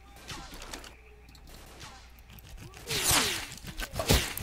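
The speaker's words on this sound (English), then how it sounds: "they're shooting at me" Enemy gunfire in the video game Stalker: Call of Pripyat (Misery mod), a few loud, sharp bursts of shots crack through the final second and a half after quieter rustling and footsteps.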